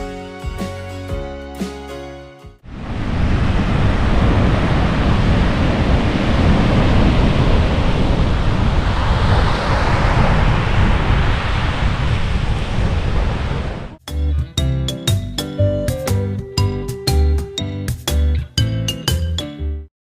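Wind and ocean surf on the Bruny Island coast in Tasmania roar as a steady, loud broadband wash for about eleven seconds. Brief music plays before and after it.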